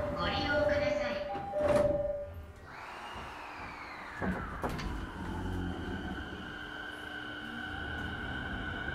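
Doors on a JR 209-500 series commuter train on the Keiyo Line between Tokyo and Soga slide shut with a rumbling thud, preceded by a recorded announcement and chime, then a rising motor whine as the train pulls away.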